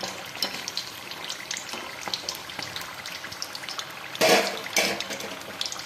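Vegetable samosas frying in hot oil, a steady crackling sizzle with small popping bubbles throughout and a louder burst of spatter near the end, no talking.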